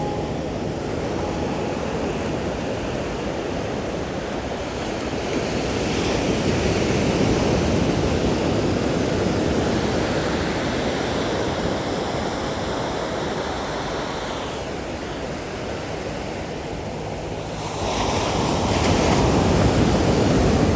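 Ocean surf at Venice Beach in Los Angeles rolls onto the shore with a steady, broad wash of noise, swelling in a few slow surges and carrying a touch of wind rumble, with no voices over it.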